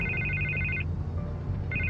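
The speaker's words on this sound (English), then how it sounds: "I can't get the phone to stop ringing" A telephone rings in the Batman The Telltale Series video game on PS4: a trilling electronic ring bursts at the start and again near the end, under a steady bed of game music and ambience.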